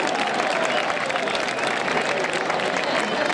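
Festival audience applause in Galicia, a dense, steady wash of clapping from a large crowd that stays loud and even throughout, with no distinct voices rising above it.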